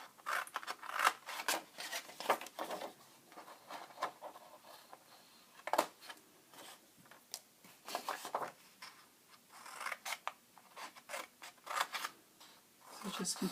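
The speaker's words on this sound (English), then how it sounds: "today I'm just going to go ahead and use the scissors" Scissors cut small sections out of paper for a handmade mini book project, giving a series of crisp, close snips and rustles in an irregular rhythm.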